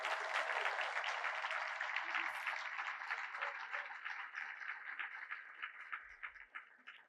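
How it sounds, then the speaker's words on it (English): Audience clapping at the Rose Queen announcement and coronation as the Rose Court leaves, a steady, moderately distant wash of applause that slowly thins and fades toward the end. "We can clap while they leave because they like that."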